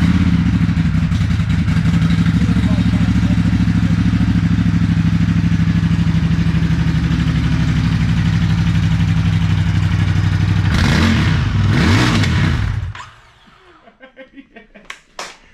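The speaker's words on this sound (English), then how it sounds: "Check out the motorbike." A motorbike engine runs loud and close for about twelve seconds with a rough, clattering tone, then cuts off abruptly and leaves a few faint ticks and knocks.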